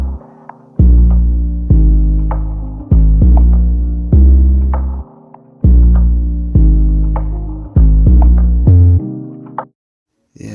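An 808 bass pattern in an RnB-inspired Afrobeat, following the chord root notes, with deep booming sub hits that decay in a repeating rhythmic pattern, loud and up front under soft chords, ending in a short gap.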